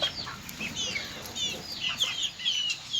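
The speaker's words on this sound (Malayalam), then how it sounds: "അതെൻ്റെ നാല് മാസം പ്രായമുള്ള കോഴി കുഞ്ഞുങ്ങളാണ്" Several four-month-old chickens cluck and chatter nearby in short, overlapping bursts, a busy continuous run of calls with occasional louder squawks.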